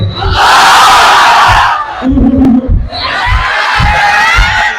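A large crowd of married men roars a takbir chant in loud, drawn-out unison shouts at a religious gathering, the first burst followed by a short lull and then a second surging cry.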